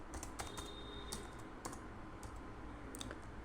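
Code being typed on a computer keyboard, with rapid, steady key clicks at close range over a low background hum, no voice.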